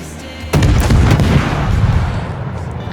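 Heavy naval guns from a destroyer in World of Warships, Shiratsuyu, shooting at a Mutsuki: a sharp booming salvo near the start, then rumbling follow-up blasts and a long fading roar.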